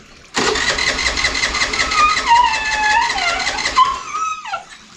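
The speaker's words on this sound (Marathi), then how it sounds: "गाडी चालू होत नाही आता दहा पंधरा मिनटं नाही होणार चालू ती" A car engine cranks repeatedly on a cold morning in a village but fails to catch, the starter churning in a fast, even rhythm for several seconds before winding down, close and loud with no talk.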